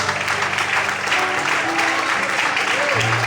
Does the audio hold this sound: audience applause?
yes